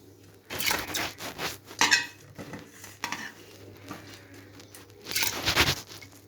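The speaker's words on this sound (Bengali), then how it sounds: "প্রেসার কুকারে ডালটা দিয়ে দিয়েছি" Washed lentils being tipped into a pressure cooker, with clattering metal and pot knocks in a few bursts, the loudest early on and again near the end, with no talk.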